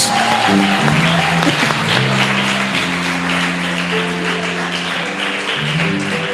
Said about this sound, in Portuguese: Pode aplaudir, Jesus é bom demais.